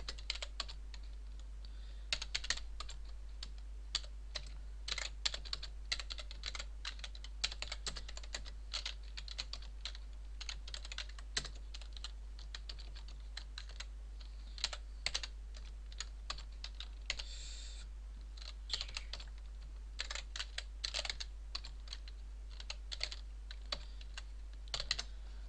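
Steady computer keyboard typing while code is written, a continuous run of quick, close keystrokes with irregular rhythm and brief pauses, set against a constant low hum and no talking.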